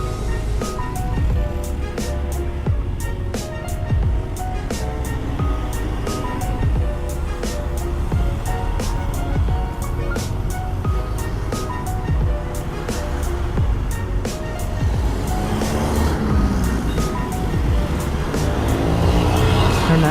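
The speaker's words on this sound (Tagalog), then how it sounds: "Marami ng mga sasakyan ngayon dito sa Davao City" Dense traffic streams past on a Davao City road near the Matina Pangi crossing, a constant close roar of car engines and tyres with passing vehicles swelling and fading and a steady whine building toward the end.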